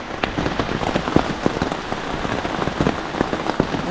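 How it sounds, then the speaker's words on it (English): Heavy rain pours steadily at night, a dense hiss with scattered sharper drops pattering close by, no voices. "it's still raining really hard."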